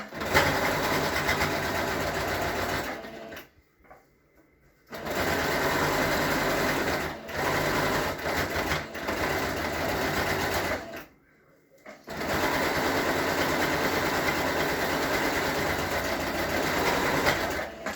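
A sewing machine stitches a seam closed over a turned-under opening, running in loud, steady buzzing bursts separated by two brief pauses, close up.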